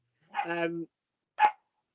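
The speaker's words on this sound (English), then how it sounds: "I've got a dog staring at me through the glass." A dog barks behind a glass door, one longer voiced bark with harmonics followed by a shorter sharp bark after a pause, fairly close and clear with nothing else around it.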